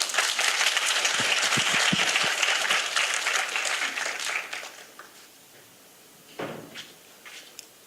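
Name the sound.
audience applause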